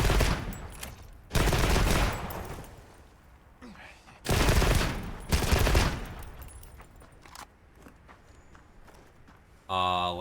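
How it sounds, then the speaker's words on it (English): Light bowgun burst fire in Monster Hunter Wilds: loud clusters of rapid shots in separate bursts, with quieter game sounds and movement between them. "Because my light bow gun needed burst fire."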